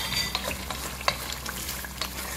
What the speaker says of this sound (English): stir and leave it to fry till I get the result I want.